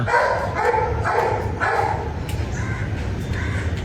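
A dog barks in a steady series of about seven loud, evenly spaced barks outdoors during green mango picking, with steady background noise underneath and no talking.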